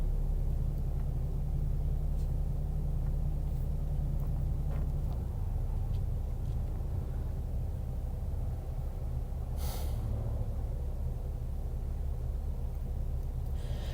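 Cars idle at a stoplight, giving a low steady traffic rumble with a brief hiss partway through and no talking.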